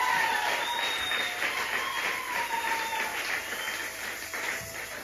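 Church congregation applauding at an evening service, a steady dense wash of clapping with some crowd noise, fairly even throughout, with a faint voice now and then.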